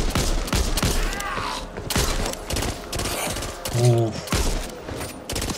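Repeated gunfire from a weapon in the co-op zombie shooter Back 4 Blood, a series of sharp shots and short bursts at a steady pace amid game effects, with someone speaking briefly over it.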